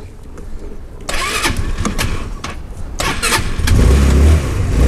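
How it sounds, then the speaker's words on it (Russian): A GALAXY scooter's engine is started with the ignition key, cranking briefly and then catching into a loud, steady running idle close by, with no voices. "Заводим данный скутер."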